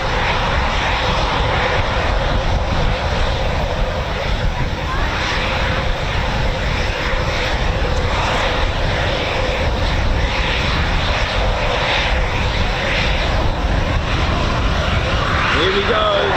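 A pair of Eurofighter Typhoon FGR4 jets departs from RAF Coningsby in a loud, continuous engine roar that stays steady and powerful throughout, with a person talking over it.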